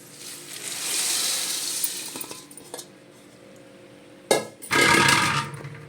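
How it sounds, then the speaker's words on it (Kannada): Puffed rice churmuri tipped into a pan of colourful tempering with the gas switched off, a rustling, rattling pour followed by sharp clinks and scraping bursts as it is tossed and mixed. "ಈಗ ಇದಕ್ಕೆ ಚುರ್ಮರಿ ಹಾಕ್ಕೊಳ್ಳೋಣ್ರಿ."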